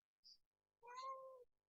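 A house cat gives a short faint chirp, then one drawn-out meow, close and clear in an otherwise quiet room.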